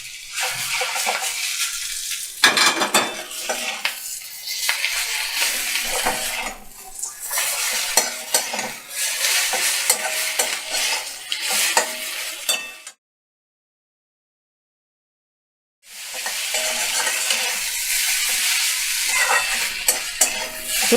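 Boiled Maggi noodles, two packets, being stirred in a frying pan over low flame, with steady scraping and clinking of a utensil against the pan and a soft sizzle, broken by a brief silent gap before the stirring resumes.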